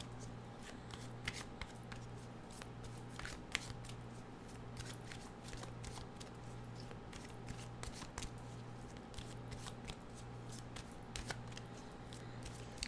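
Animal oracle cards are shuffled continuously by hand, giving a steady stream of soft papery riffles and sharp little snaps over a faint background hum.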